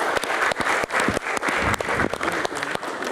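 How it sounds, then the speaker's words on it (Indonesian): An audience applauds in a studio hall as a guest is welcomed onto a Q&A panel show. The clapping is dense and steady, close and full for about three seconds, with no talking over it. "Tepuk tangan dulu Habib Jafar."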